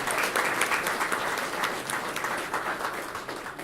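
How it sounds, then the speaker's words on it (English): An indoor audience at a community panel event applauds the panelists with sustained, dense clapping that stays loud throughout and fades slightly at the end. "A big hand of applause for our panelists."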